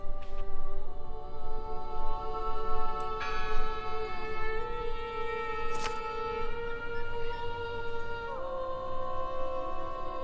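Church bell ringing in the video game Draugen, sustained resonant bell tones layered and overlapping, with new strikes every few seconds that ring and decay over a low background hum.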